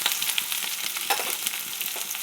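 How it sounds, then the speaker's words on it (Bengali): Onion, garlic and chopped chili crackle and sizzle steadily in a little hot oil, a close, continuous bright frying hiss with small stirring clicks and no voices. "তেল গরম হয়ে গেছে, এবার দিয়ে দেবো পেঁয়াজ।"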